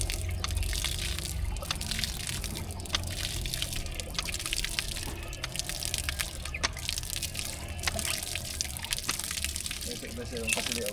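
Water gushing steadily from a newly installed faucet beside a house, a continuous splashing stream with scattered drips, and voices murmuring faintly underneath.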